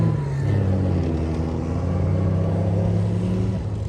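A light military tank at a steam rally show pulls away, its engine a low steady rumble that rises slightly as it accelerates off, heard at moderate distance without speech.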